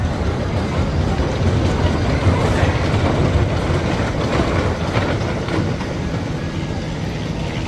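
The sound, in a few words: roller coaster train running at Six Flags over Georgia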